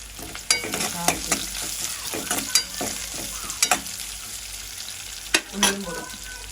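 Onion, green chillies, curry leaves and cumin sauté in a hot pan, giving a steady sizzle broken by sharp, irregular clanks and scrapes of a spatula stirring, with no talking.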